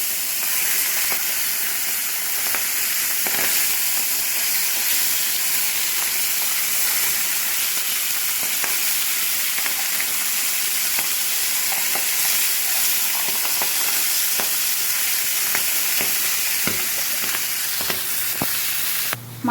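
Fish frying in hot oil over a high gas flame, a loud, unbroken sizzling hiss with sharp pops and crackles scattered throughout, close by.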